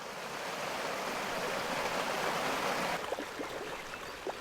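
Water rushes steadily through a falaj, a traditional Omani irrigation channel feeding flooded plots, giving a continuous broadband gurgle that stays fairly loud throughout with a few brighter splashes near the end.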